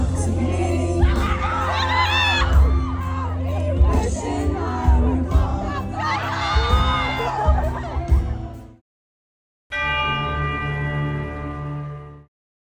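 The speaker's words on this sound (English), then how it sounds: "the audience screams Suguru and Satoru like a K-pop fan chant" A concert crowd screams and chants loudly and continuously, with shrill cheering voices rising over one another, cutting off abruptly before a brief quieter stretch of crowd noise returns.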